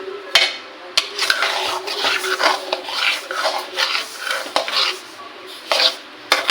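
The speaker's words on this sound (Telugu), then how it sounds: "నేనైతే మార్నింగ్ ఉప్మా చేస్తున్నాను." Pots and pans clatter and scrape while upma is cooked in a home kitchen, with sharp metallic knocks and utensil rubbing recurring unevenly at close range and no talk.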